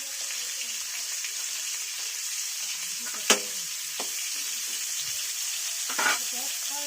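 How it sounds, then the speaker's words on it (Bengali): Pointed gourd (potol) fries in a pan with a constant, near sizzle, punctuated by a few sharp pops and clicks. "পটলটা একটু লালচে লালচে করে ভাজতে হবে, লালচে করে ভাজলে ভালো লাগে।"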